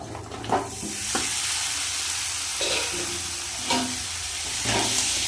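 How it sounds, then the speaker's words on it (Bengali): Chopped vegetables with chilli powder frying in a pan, a loud close sizzle broken by several spatula scrapes and stirs in an uneven rhythm, with no talking. "ভালো করে নাড়িয়ে নেব সবজিগুলো"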